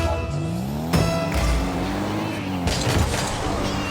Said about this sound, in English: I can hear the car audio like very loud.